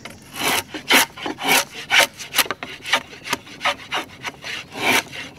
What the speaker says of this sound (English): I'm going to start on the thick end, so I just want to smooth it off and start the taper just slightly.